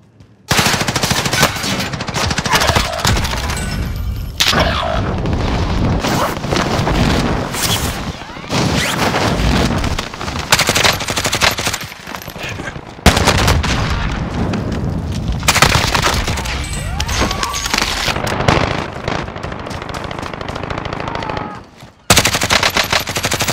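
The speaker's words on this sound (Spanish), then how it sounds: "¡Contacto! ¡Están disparando! ¡Me dieron!" Rapid gunfire from an MP7 and a Grau 5.56 in the Warzone video game, with loud continuous automatic bursts and booming shots. Brief pauses break up the firing, and faint game voice callouts sit under the din.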